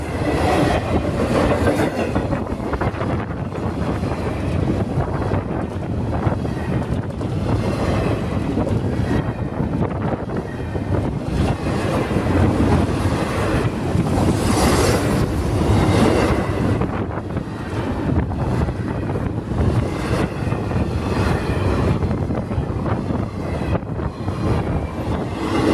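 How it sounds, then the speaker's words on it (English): A CSX intermodal freight train rolls through Plant City at night, its wheels clacking in a long, steady rush of rail cars close by, with wind buffeting the microphone. "CSX train Q045 heading to Tampa's Yeoman Yard."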